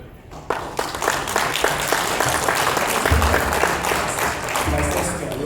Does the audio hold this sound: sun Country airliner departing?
no